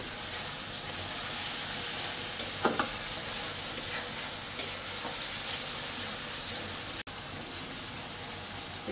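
Spice paste sizzles steadily in a hot pan while being stirred, with a few scraping clicks of the spoon against the metal through the continuous frying hiss; no one speaks.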